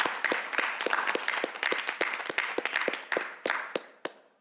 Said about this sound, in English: we never got that round of applause when we joined